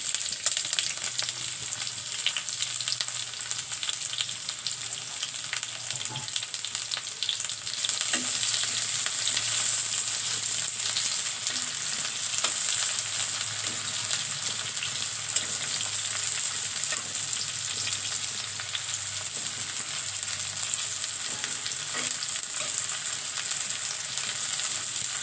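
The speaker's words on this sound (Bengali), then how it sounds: "আমি এবারে পেঁয়াজ কাটা দিয়ে দিচ্ছি।" Chopped onions frying in hot oil while a Bangladeshi beef curry is being cooked, a steady bright sizzle running the whole time with occasional soft stirring clicks, close up and with no voices.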